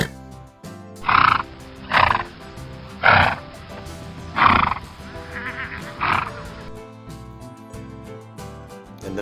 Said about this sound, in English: A beautiful and big herbivore animal, horse from the farm world.